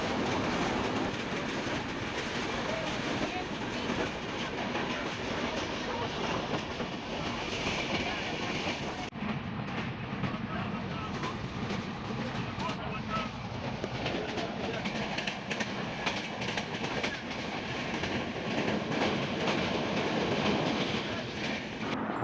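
Steady rumble and rattle inside a moving train from Dhaka to Tangail, with rhythmic clicking of the wheels on the tracks and a constant loud roar throughout.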